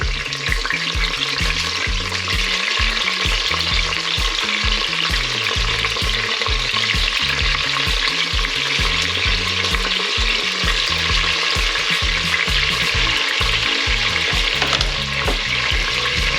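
Sliced ñora peppers fry in hot oil with garlic in a pan for a noodle casserole, a steady loud close sizzle with continuous stirring scrapes and bubbling underneath for the whole stretch, no voices.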